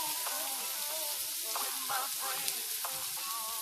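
Meatloaf ingredients sizzle steadily in a hot pan, a continuous close frying hiss with small crackles and occasional stirring scrapes, no talking.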